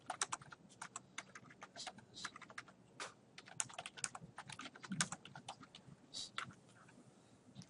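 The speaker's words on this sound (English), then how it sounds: "Once you do this, you can then type in whatever you want." Quiet, rapid tapping of keys on a computer keyboard as text is typed, an uneven patter of clicks with brief pauses, heard alone at close range.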